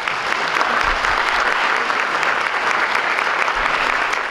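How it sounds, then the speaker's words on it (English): A hall full of people at a Board of Supervisors recognition ceremony breaks into a big round of applause, dense and steady clapping close and loud for the whole few seconds with no speech over it. "Give them a big round of applause."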